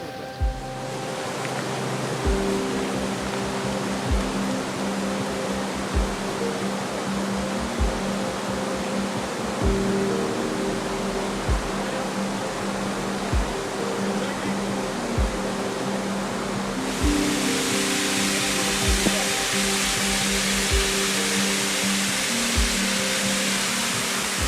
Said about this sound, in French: on est arrivé à la première cascade